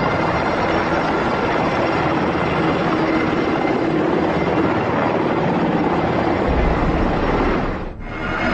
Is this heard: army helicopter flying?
yes